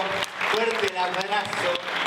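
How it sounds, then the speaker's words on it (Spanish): An audience claps at a celebration, a burst of dense applause rising and falling over about two seconds, mixed with voices speaking over it. "Fuerte el aplauso"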